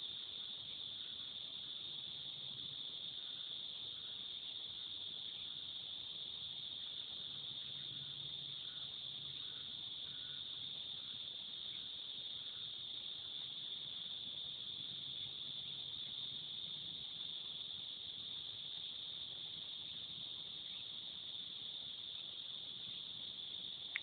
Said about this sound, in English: those are the cicadas. They're just really loud today.